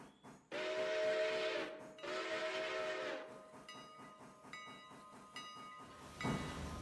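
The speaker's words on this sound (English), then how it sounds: "This will be fun watching the two trains come together." A train in the Railroader video game sounds two long, loud steam whistle blasts over a chugging, hissing engine, followed by rhythmic clanking wheels on rails and a closing burst of steam hiss.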